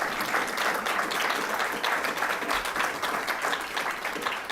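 Sustained applause from a live audience at a mental health and juvenile justice panel event, dense steady clapping filling the whole stretch at even loudness with no break.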